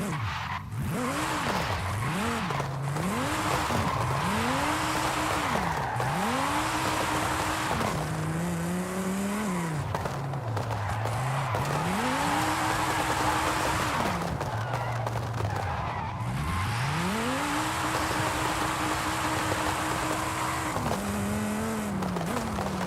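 Dodge Viper revving hard and squealing its tires while drifting on narrow roads in Forza Horizon 5, engine pitch repeatedly sweeping up and down through gear changes, loud and continuous throughout.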